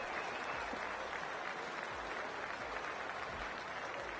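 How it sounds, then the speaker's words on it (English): Steady roar of a stadium crowd cheering and applauding in a PS5 cricket video game, an IPL match between PBKS and GT, a dense continuous wash of noise with no talk. "It's a fantastic crowd in today."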